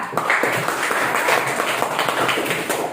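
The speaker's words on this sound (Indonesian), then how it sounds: "Tepuk tangan untuk Suhaila dan Safira." A school class claps for two students, Suhaila and Safira. The clapping is continuous and moderately loud, a steady wash of many hands for about three seconds.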